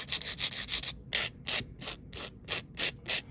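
A nail file reshapes glued-on nail tips with rhythmic back-and-forth rasping strokes, about a dozen close, even scrapes with brief pauses, and no talk.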